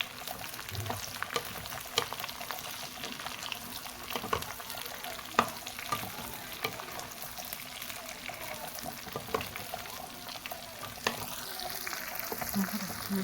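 Jujubes fry with browned garlic in a pan, giving a soft, bubbling sizzle broken by frequent scraping stirs and occasional clinks of the spoon, close and moderately loud throughout.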